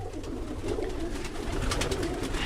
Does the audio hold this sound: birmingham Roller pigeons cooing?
yes